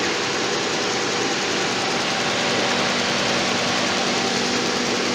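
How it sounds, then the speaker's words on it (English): A car engine that has been warming up for about five minutes, with a recurring sticking fault, runs at a steady, loud idle with a constant hum and a faint tonal whine, uninterrupted and without speech. "So the engine has been running for like 5 minutes"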